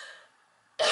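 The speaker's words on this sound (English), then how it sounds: "Sorry, slight coughing fit there." A sudden burst of harsh coughing from an adult woman during a tarot reading, loud and close, erupting after a quiet stretch of faint breathing.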